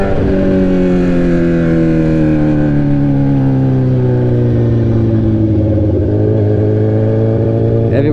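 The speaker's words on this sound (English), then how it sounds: "I'm just riding around with a loud exhaust." Sport bike with a straight-pipe exhaust droning loud and close on a continuous steady note that slowly drops in pitch as the engine eases off.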